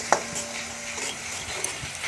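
A spoon stirs whisked sour yogurt into fried spice masala for a spiced potato curry, giving brief close scrapes and clicks over a faint, steady sizzle.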